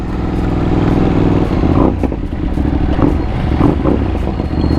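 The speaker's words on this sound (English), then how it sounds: "And the burble of the exhaust sounds really good." Exhaust of a Ducati V2 or Yamaha R7 sport motorcycle burbling on a clutchless shift, loud and close, with a steady engine drone that breaks into irregular popping crackles and flaps partway through, with no talk.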